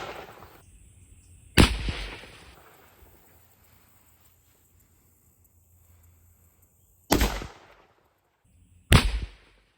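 Three sharp, loud M1 Garand rifle shots crack out at watermelons about 20 to 30 yards downrange, the first after a short pause and the last two closer together, each followed by a brief echoing tail over quiet outdoor air.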